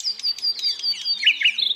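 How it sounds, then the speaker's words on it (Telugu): Small birds chirp and twitter close by in open countryside near a farm field, with quick, bright calls rising and falling and no other noise behind them. "ప్రకృతిలో మంచిగా లైవ్లో మనకి కిలకిల రాగాలు వినబడుతున్నాయి"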